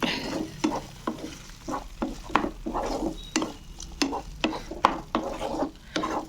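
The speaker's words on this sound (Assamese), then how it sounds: "এতিয়া মই ইয়াত দিছোঁ পনীৰখিনি।" Paneer is stirred in a hot pan, sizzling steadily while a spatula scrapes the pan in a quick, uneven rhythm of a dozen or so close strokes over six seconds, with no talking.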